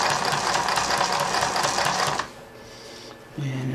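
Singer 20U33 industrial sewing machine sewing a long straight stitch, a fast steady loud rattle for about two seconds, then stopping to a quiet hum before briefly restarting.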